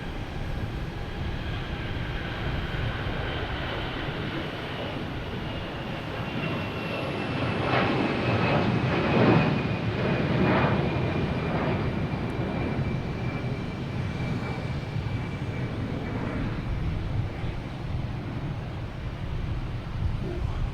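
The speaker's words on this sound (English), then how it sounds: "next takeoff is American Airlines heading to Cleveland, I think" An American Airlines Airbus A320 takes off at Boston Logan Airport, its jet engines roaring steadily and swelling to a loud peak midway before a long, sustained rumble with a faint whining tone, heard alone.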